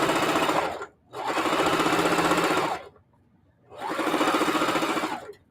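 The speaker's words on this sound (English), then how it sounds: "I'm chain piecing these, which means I'm just sewing the next one onto the other without cutting the thread" A domestic sewing machine chain-piecing quilt blocks in a home quilting session, stitching in three steady bursts separated by short pauses, each run a fast even buzz, close and loud.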